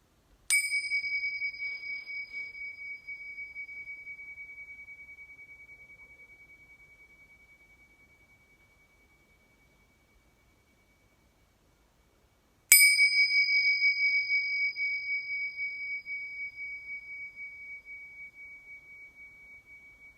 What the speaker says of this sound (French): je vais faire sonner 3 fois les cloches tibétaines